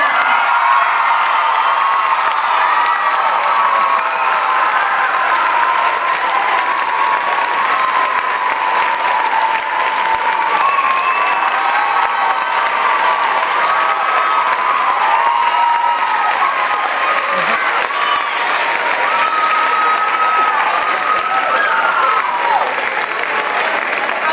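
Sustained audience applause at a school Mary Poppins stage show for the musical director, loud and continuous throughout with dense clapping and a few faint cheers from the crowd.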